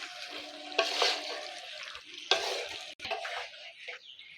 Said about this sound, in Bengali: ভালো করে নেড়ে চেড়ে মাংসটাকে কষিয়ে নেব